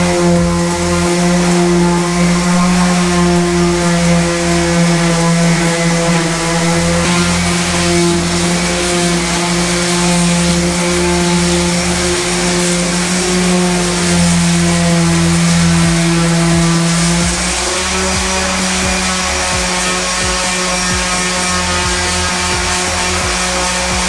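A loud, continuous motorized whir of a power sander sanding a Sea-Doo RX runs steadily for over twenty seconds, its pitch dipping slightly near the end.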